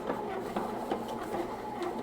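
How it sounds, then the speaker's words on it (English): A Hamilton Beach bread machine kneads milk bread dough, giving soft rhythmic mechanical churning with faint thumps as the dough knocks against the pan, heard close and fairly quiet. "Now that it's 15 minutes, I'm going to stop the bread machine."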